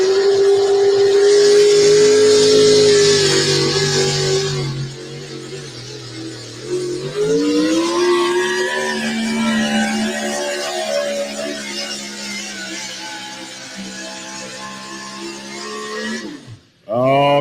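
A truck nicknamed Bipolar launches at a dirt drag race with the clutch slipping, its engine roaring loud and close, then bogging and climbing again in pitch as it pulls away. Announcer talk runs over it.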